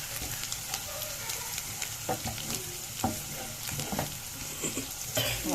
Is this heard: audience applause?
no